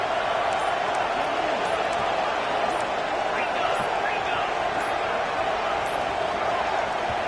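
A stadium crowd in NCAA 26 college football, a loud, continuous roar of massed voices that stays steady throughout, with a commentator talking over it.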